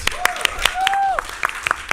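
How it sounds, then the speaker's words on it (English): Audience at a podcast panel at a pony fan convention gives a round of applause, a quick patter of claps with a voice or tonal sounds gliding over them, fairly close and moderately loud. "a round of applause for great"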